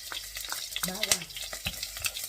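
Garlic sautéing in hot oil in a pan while mushrooms are cooked, a soft steady sizzle with scattered clinks and scrapes of stirring, close by and fairly quiet.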